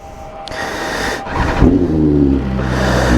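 Engine of a sport motorcycle in a Streetfighter, M1000R and Tuono comparison, loud and close, rising from a throaty rumble into a sharp rev, dipping briefly, then climbing again through the gears.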